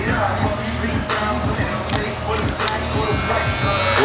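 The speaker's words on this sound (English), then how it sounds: "a new clipper here, the STYLECRAFT Super Torque Apex" A Stylecraft Super Torque Apex hair clipper runs with a steady, close electric buzz that holds for about four seconds, a low motor hum beneath it throughout.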